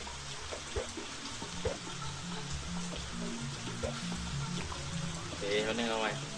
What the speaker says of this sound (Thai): อ้าวฝนตก